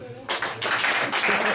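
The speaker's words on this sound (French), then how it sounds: "Applaudissez pour voir." An audience at a stage comedy show breaks into clapping, starting abruptly after a short pause and then carrying on as a dense, even burst of applause.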